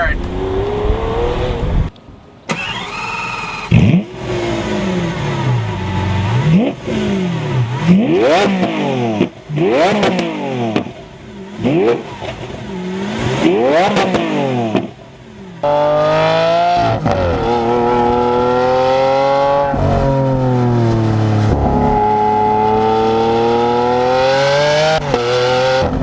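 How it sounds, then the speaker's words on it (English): A Lamborghini Aventador Roadster's V12 revs repeatedly from a loud, close engine, climbing to shrieking highs and dropping with crackles, then settles into a sustained high-rpm drone. "the Lamborghini Aventador's V12 is the absolute best sounding engine I have ever heard"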